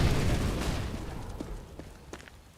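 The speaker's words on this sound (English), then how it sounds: "Throwing a grenade." A CS:GO grenade detonates in a loud, close boom that rolls off into a fading rumble, followed by a few faint pops and crackles.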